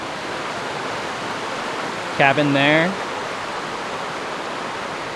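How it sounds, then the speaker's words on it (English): A gorgeous stretch of river at a truck camping spot gives off a steady, broadband rushing of flowing current that fills the whole clip, with a short burst of speech briefly rising over it midway. "Seriously though, look at this. Look at a gorgeous stretch of river."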